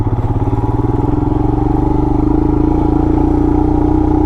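A 2020 Royal Enfield Himalayan with Pirelli MT21 and Dunlop D606 knobby tires rides an off-road trail, its single-cylinder engine thumping loud and close in a steady, slightly rising drone.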